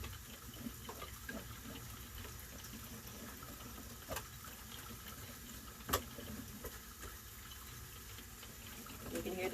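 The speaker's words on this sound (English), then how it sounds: "You can hear the bacon's cooking." Bacon sizzles in a pan during breakfast cooking, a steady close frying hiss with a few sharp pops, while faint background talk comes and goes.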